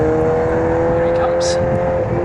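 A Ferrari race car in a Pirelli Ferrari Formula Classic race at Snetterton comes round on track, its engine a steady loud drone with tonal whine throughout, under ongoing commentary speech.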